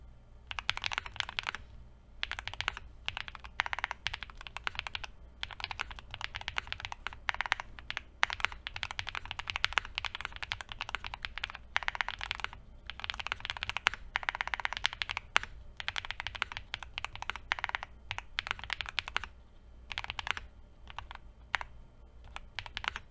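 Rapid, continuous clacking of a QK80 mechanical keyboard during a typing test, typed at a steady fast pace with brief pauses, close up and without talking.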